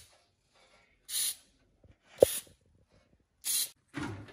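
Baking spray hisses into a brownie pan in three short, close bursts separated by quiet, with a small knock of the can or pan in between and no talking.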